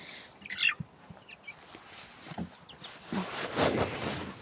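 Scattered high peeps from chicks in an outdoor enclosure come in short bursts, mixed with soft rustling and a few low clucks, fairly close and moderately quiet.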